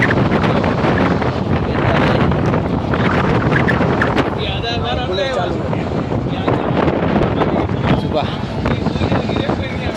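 Gusty wind roars loudly and continuously across an outdoor microphone, buffeting it throughout, with people talking over the noise.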